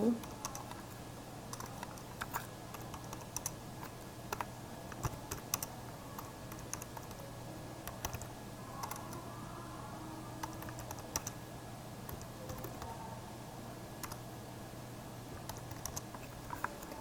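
Computer keyboard typing throughout, with scattered sharp key clicks over a steady low hum, fairly quiet and close; a voice speaks intermittently.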